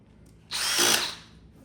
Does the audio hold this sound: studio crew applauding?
no